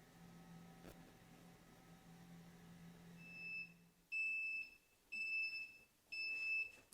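A kitchen oven beeps when it finishes preheating, giving three loud, clear electronic tones in an even, spaced rhythm after a faint hum.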